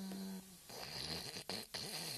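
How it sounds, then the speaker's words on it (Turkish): Snoring in a cartoon scene, drawn-out raspy snore breaths repeating under a steady background hum, with short breaks between pulls. "Baksana horlamaya bile başladı."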